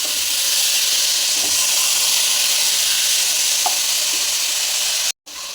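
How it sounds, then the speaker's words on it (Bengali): Vegetable stalks stir-frying in oil in a kadai give a loud, constant sizzle and hiss close by, with faint scraping stirs, ending in a brief silent cut. "ডাঁটাগুলো এবারে তেলের মধ্যে, এই কড়ার মধ্যে দিয়ে দেবো। দিয়ে এইভাবে কষিয়ে নেবো।"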